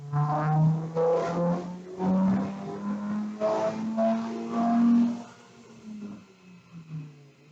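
Car engine pulling hard at wide open throttle in fifth gear on a dyno, turbocharged with timing, fueling and boost being tuned; a loud, steady droning roar whose pitch climbs slowly before easing off near the end.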